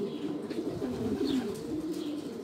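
Pigeons coo in low, throaty, continuous rolling calls, close and steady, with faint chirps now and then and no talk.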